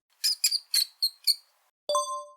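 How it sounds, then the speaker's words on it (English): High, thin squeaks in a quick series of five short bursts, then one longer tonal squeak, offered as the call of a mouse, crisp and close against silence. "What sound does a mouse make?"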